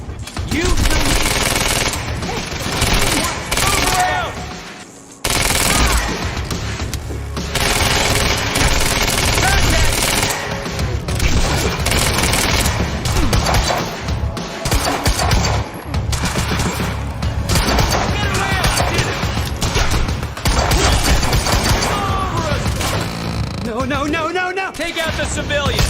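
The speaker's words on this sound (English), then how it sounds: "Why the hell is Monarch firing at us?" Monarch soldiers' gunfire in Quantum Break rattles in long, loud machine-gun bursts nearly throughout, with a few brief pauses and people shouting over the shooting.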